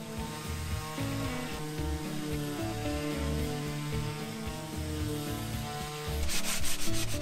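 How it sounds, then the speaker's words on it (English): Light hand-sanding with 320-grit sandpaper along the side of a monkey pod wood table board: a steady, close rubbing scrape in continuous strokes, growing slightly louder and brighter near the end, with no talking. "Lightly sand the side so as not to remove the traces of the ads."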